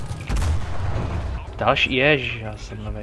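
Pz. 38(t) F tank gun firing in the Enlisted video game, a single heavy boom at the start followed by rumbling decay, with someone talking over the tail.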